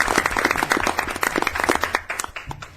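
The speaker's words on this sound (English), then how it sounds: "Some applause," Audience at a city council meeting in Oshkosh giving applause, a modest group of individual hand claps heard fairly close, thinning out toward the end.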